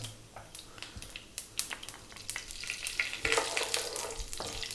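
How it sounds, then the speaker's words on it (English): Black mustard seeds and fennel sizzle and pop in hot mustard oil, a close, steady frying hiss broken by crackling bursts that grow busier toward the end. "Let's start off by dropping in the black mustard seeds and the fennel."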